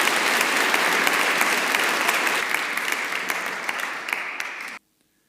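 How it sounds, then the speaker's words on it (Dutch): Audience applause at a royal honours ceremony in Tytsjerksteradiel, steady and dense, filling the room, then cutting off abruptly near the end. "ik denk dat het een applaus verdient"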